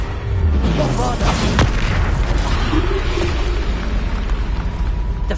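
A Bombarda spell explosion in the video game Hogwarts Legacy, heard as a dense, sustained boom with rumbling low end that stays loud through the whole stretch, with a sharp crack partway in.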